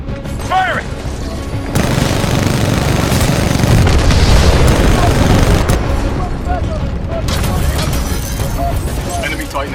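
Titan weapons firing in the video game Titanfall 2: heavy booming blasts and rapid gunfire roar continuously for several seconds, loud and close, with brief game voices mixed in.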